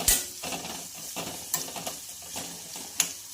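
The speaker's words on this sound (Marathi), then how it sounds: "हिरवी मिरची आणि मुळ्याची पानं सुद्धा बारीक चॉप केलेली आहेत, ते सुद्धा आपण यामध्ये घालणार आहोत आणि छान असं फ्राय करून घ्यायचं आहे" Finely chopped green chili and radish leaves frying in a pan for radish chutney, with bright sizzling and a few spoon stirs and scrapes close by, no speech.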